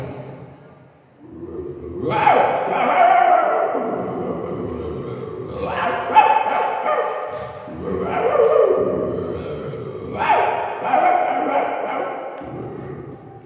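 A person imitates a dog barking with three drawn-out, yelping bursts, each rising then trailing off, close and fairly loud.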